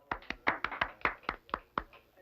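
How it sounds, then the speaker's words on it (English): A small study group applauds, about ten distinct hand claps in a quick, uneven run, close and fairly quiet, with no talking over them. "You deserve the applause of the entire group"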